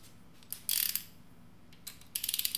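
On a 4G63T engine block, a torque wrench ratchets down rod bearing cap nuts in two short bursts of quick, crisp clicks, close and quiet against a still background.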